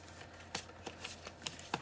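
Tarot cards being shuffled by hand, a quiet run of soft riffling slaps and papery flicks in an irregular rhythm, close and alone.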